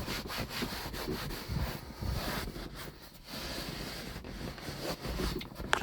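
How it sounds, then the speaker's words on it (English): Microfiber cloth wiping a leather car seat, giving soft, uneven rubbing swishes in short strokes close by, with brief pauses between passes. "Got a nice clean new microfiber here. Just give that a bit of a wipe."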